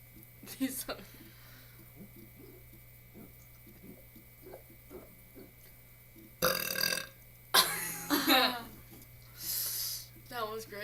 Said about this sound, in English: My burp was a fail.